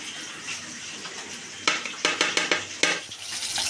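Tilapia fish frying in oil, a steady soft sizzle, then a run of sharp stirring or spatula scrapes and taps against the pan, close and moderately loud with no voices.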